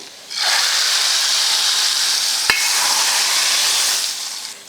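Hot oil tempered with dried red chillies, curry leaves and asafoetida is poured into tomato dal, setting off a loud, steady sizzling hiss that holds for several seconds after one sharp clank and then fades.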